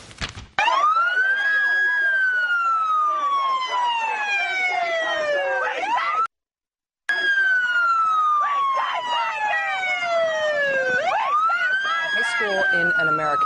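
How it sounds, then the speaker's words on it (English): Police car sirens in an American city wail in long rising and falling sweeps, loud and close, running continuously for most of the stretch with one brief silent break. "the police turned on the sirens of their police cars to drown out the girls' voices"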